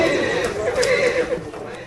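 A horse whinnies and neighs as it bolts and jumps a fence trying to flee capture, a loud, strained call running through the whole stretch over steady background noise.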